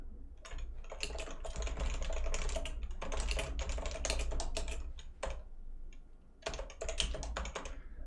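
Quick bursts of clicky keystrokes on a computer keyboard while a program is being written, close and steady with brief pauses between runs of typing.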